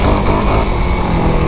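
Yamaha YFZ 450R quad engine roars loud and steady at high revs, a dense continuous drone close to the microphone with no talk over it.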